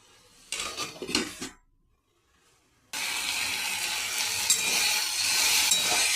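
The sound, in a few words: lid put on pan of frying greens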